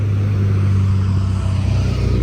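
A Ferrari F40 in US specification drives past at a car week gathering, its engine a loud, steady low drone that barely changes over the couple of seconds.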